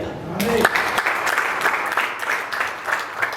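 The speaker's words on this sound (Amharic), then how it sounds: "አጨብጭቡ ለጌታ" At a church service, a congregation applauds for the Lord. A brief voice opens the moment, then steady, energetic clapping from many people takes over.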